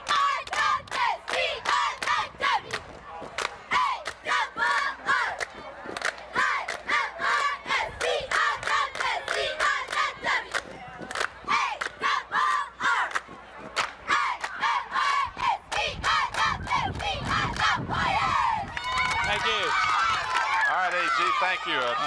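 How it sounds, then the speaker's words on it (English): Cheerleaders at a high school football game chant a rhythmic cheer with sharp, repeated shouted beats and crowd noise, ending in a burst of cheering. "Can we have a little special cheer for the second half?"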